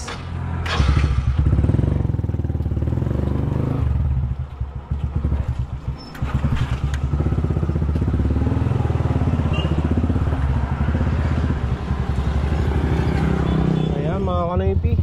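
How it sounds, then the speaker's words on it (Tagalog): A motorcycle engine runs close by with a steady, throbbing idle and occasional revs, while a person talks over it. "napainit ko na yung makina ni Mia."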